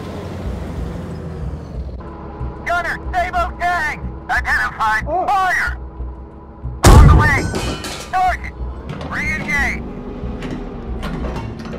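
An M60A1 tank cannon fires a sabot round in the video game GHPC, one heavy booming shot midway through, mixed with radio chatter and engine noise.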